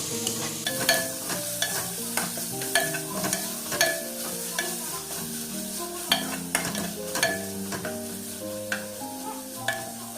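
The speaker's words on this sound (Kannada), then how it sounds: "ಒಂದು ಟೇಬಲ್ ಸ್ಪೂನಷ್ಟು ಕಸೂರಿ ಮೆಥಿ ಎಲ್ಲ ಹಾಕಿ ಚೆನ್ನಾಗಿ ಫ್ರೈ ಮಾಡ್ಕೋಬೇಕು." Chicken masala fries with a spoonful of kasuri methi and a little mint while a spoon stirs it, producing a steady close sizzle punctuated by repeated sharp scraping clinks against the pan, with faint music in the background and no talking.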